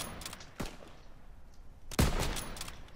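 Sniper rifle shots in an online 1v1 video game battle, two sharp loud reports about a second and a half apart, each with a short rumbling tail over steady game background noise.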